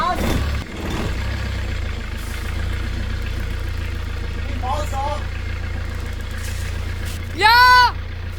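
A repaired engine runs at a steady, loud idle and takes a few light throttle blips, with a short voice over it and a sharper rising sound near the end.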